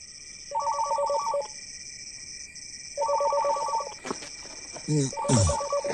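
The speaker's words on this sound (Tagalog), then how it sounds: "Sino ba yung tumatawag? Sobrang gabi naman yata ang kumontak." A telephone rings late at night in three repeated bursts of electronic trilling tones, fairly faint against a quiet background with a steady high whine, and a few soft knocks near the end.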